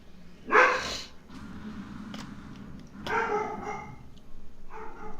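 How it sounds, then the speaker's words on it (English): A dog barking at the postman indoors, one loud close bark followed by softer yips and whimpering barks, with no talk over them. "My dog's talking to the postman."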